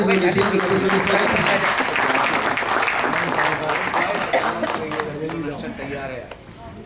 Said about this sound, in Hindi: आपकी तालियां मजबूर करेंगी